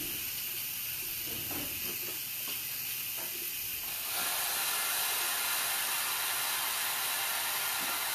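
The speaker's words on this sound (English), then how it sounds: "There's an additional release button here, and that's just letting out more of the steam." Pressure cooker venting steam through its extra release button: a steady broadband hiss that jumps suddenly louder partway through and holds, close and continuous with no voices.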